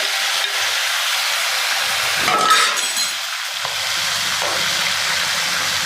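Chopped tomato pieces fry with onions in a hot pan, a constant close sizzle with a brief louder burst and a clink of a spoon stirring partway through.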